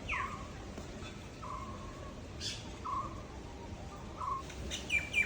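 Several short bird chirps repeat at intervals over a quiet outdoor background at dusk, fairly near, with a few brighter calls toward the end.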